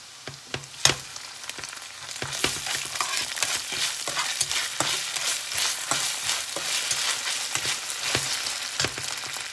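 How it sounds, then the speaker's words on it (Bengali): Ginger frying in hot oil in a pan for chicken biryani, a steady close sizzle broken by repeated sharp scrapes and clinks of a stirring spoon, with no voices. "আদা দেওয়ার পরে আমি একটু আরেকটু ভেজে নিব আদাগুলোকে"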